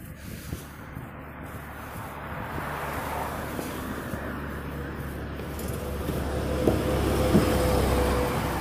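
A bus rolls past on a road outside Philadelphia, its engine rumble and tire noise building gradually from moderate to louder, with wind noise over the microphone and no talking.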